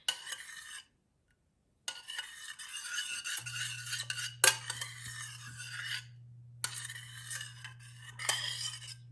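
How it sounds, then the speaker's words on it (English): A whisk scrapes through a lentil vegan loaf mixture in a bowl. It makes brisk, close, rhythmic metallic stirring in several stretches broken by short pauses, over a steady low hum. "I'm just going to whisk that up."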